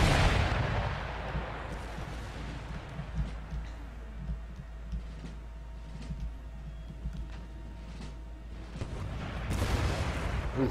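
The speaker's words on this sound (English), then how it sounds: "Not the best shooting artillery, but come on." Artillery fire in Empire: Total War, with scattered booms and sharp cracks over a low rumbling battlefield bed, louder bursts at the start and end.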